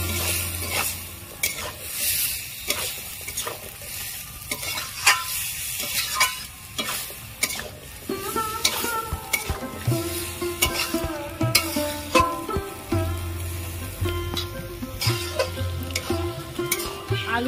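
Potatoes are sautéed in a ghugni gravy made with yogurt, with steady frying sizzle and repeated scraping and knocking of a spoon against the pan. A low tonal hum runs beneath.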